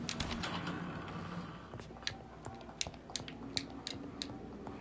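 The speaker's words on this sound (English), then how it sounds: "Sounds like a bird." A bird coos and chirps in the video game Vampyr, inside an old morgue hospital storeroom. Short, sharp calls repeat at uneven intervals over a steady ambient bed of game sound.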